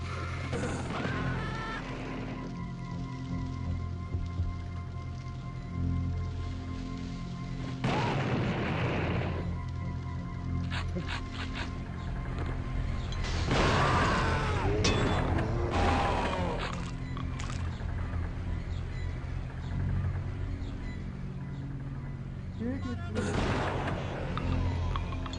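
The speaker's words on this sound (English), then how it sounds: "did I just shoot his dynamite out of the air?" Dynamite shot in mid-air explodes in the video game Blood: several heavy booming blasts land over a low, steady game drone, spaced apart and fairly loud.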